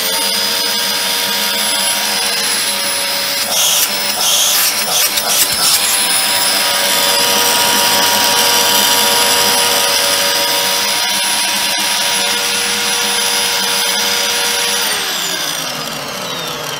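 A refurbished Dyson DC04 Zorbster vacuum cleaner runs with its cyclone units fitted, giving a loud, steady high-pitched whine and roar that holds constant throughout, with no talking.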